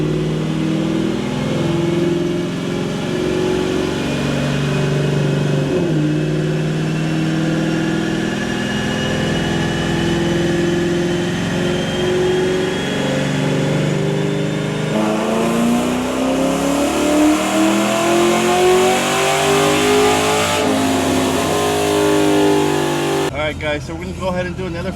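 A Jeep Trackhawk's supercharged engine roars through a full dyno pull on 91 fuel, rising steadily in pitch over about twenty seconds to a loud, strained peak before cutting off abruptly near the end.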